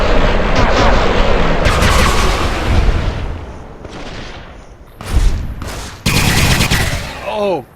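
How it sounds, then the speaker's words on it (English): Shotgun blasts and heavy gunfire ring out in the video game Fallout New Vegas, loud, booming bursts separated by brief gaps, with a voice talking over the action. "And I'm carrying a shotgun."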